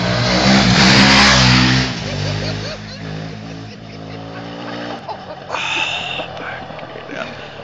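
A KTM Adventure motorcycle engine revving hard as the rider pulls a wheelie, loudest at the start and then easing into a lower, fluctuating drone. A brief whine rises near the end, and voices talk over it.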